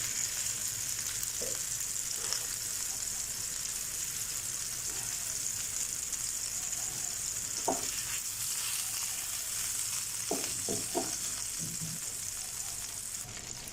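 Gola kebabs of minced meat frying in a pan over low heat, a steady soft sizzle throughout with a few brief clinks and scrapes, fairly quiet and without talk.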